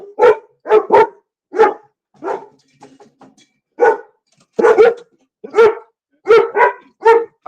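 A small dog barks repeatedly in short bursts and double yaps, close and loud, with brief pauses between barks and no talking.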